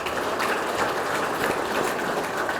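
An audience at a Midland business gathering gives a steady round of applause for the event's platinum sponsors, a dense even patter of clapping from many hands, with no talk over it.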